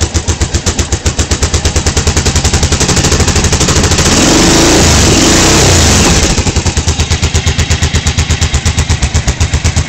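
A Yamaha Drag Star 1100 motorcycle engine runs loud and close with a rapid, pulsing exhaust beat, revving up to a roaring peak before settling back to a steady idle.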